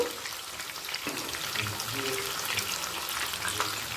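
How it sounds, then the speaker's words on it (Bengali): Chicken pieces for chilli chicken sizzle steadily in hot oil after being turned to the other side, a dense close crackle holding even throughout with a few faint clinks and no talk. "একটা দিক হয়ে গেলে অপর দিকটাও ভাজতে দেব"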